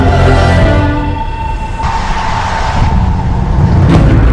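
A Porsche engine runs loud and close with a steady roar, its pitch rising as it revs and then settling into a sustained drone.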